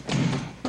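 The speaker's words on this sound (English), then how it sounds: "Now close the door, Sally." A door is pushed shut with a dull thud, followed quickly by a second soft knock as it settles, heard close and alone.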